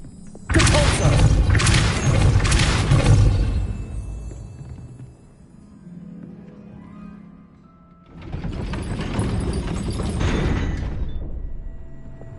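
A Depulso spell cast in the Hogwarts game lands as two loud, broad whooshing blasts with heavy thuds, separated by a quieter low rumble. No one talks.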